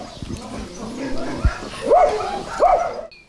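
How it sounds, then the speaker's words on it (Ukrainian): Abandoned dogs bark a few times in short yelps in a village near the front line in Ukraine, fairly close, with some rustling and faint background voices between the barks. "Допомагає доглядати за покинутими собаками."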